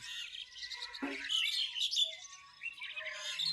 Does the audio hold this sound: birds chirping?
yes